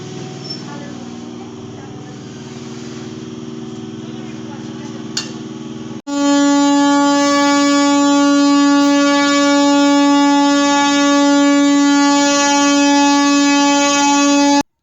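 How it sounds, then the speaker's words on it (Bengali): Train departing Krishnanagar City Junction: a low rumbling idle, then a loud sustained horn blast that holds steady for several seconds, close and dominant. "আমাদের ট্রেন কৃষ্ণনগর সিটি জাংশন থেকে তার নির্ধারিত সময় 4:20-তেই ছেড়ে দিয়েছে।"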